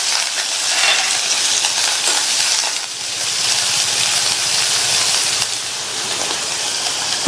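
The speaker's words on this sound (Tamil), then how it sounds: "ஒரு சின்ன சைஸ் கட் பண்ண பெரிய வெங்காயம், ஒரு கட் பண்ண காஞ்ச மிளகாய், கருவேப்பிலை, இதை லைட்டா வதக்கி விட்டுட்டு" Chopped onion, cut dried chili and curry leaves sauté in hot oil, a loud continuous sizzle close up with faint stirring movement, no talking.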